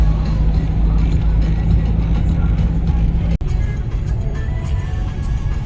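A hay-laden truck, plate 42 AHC 503, drives along the Aksaray–Konya road, spilling straw. Its engine gives a steady, loud low rumble with road noise throughout, broken by a brief dropout midway.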